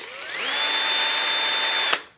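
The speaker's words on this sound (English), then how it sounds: "then I'm going to drill a larger hole in the door itself" Power drill boring a larger hole into a wooden cabinet door for a handle, a close, steady whine that rises in pitch as the bit spins up, holds level, then stops abruptly with a brief click.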